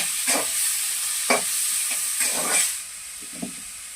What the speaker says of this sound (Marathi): कांदा आता परतून घेऊ